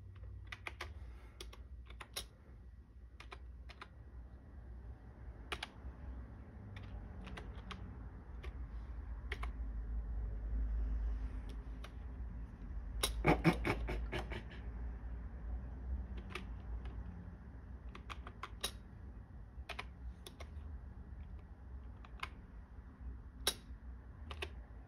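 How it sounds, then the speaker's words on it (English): Someone types on an external computer keyboard used with a Dell 7370 laptop, producing scattered, sharp key clicks at an irregular pace, with a short flurry of rapid strokes midway, over a quiet background hum. "I'm still gonna use the keyboard because I trust it more than the Dell's onboard keyboard."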